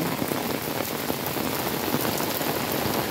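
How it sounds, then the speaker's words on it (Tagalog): Steady typhoon rain pours down in Hong Kong, a dense hiss of drops pattering on surfaces, loud and unbroken throughout. "hindi pa siya gaano malakas yung ulan. At saka hangin."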